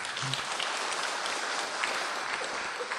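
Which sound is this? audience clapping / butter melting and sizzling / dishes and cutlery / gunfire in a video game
audience clapping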